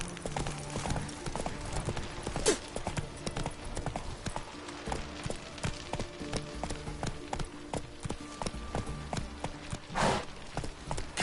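Geralt's horse Roach trots in The Witcher 3, with a brisk clip-clop of hooves under game ambience, occasional louder thumps and faint voices.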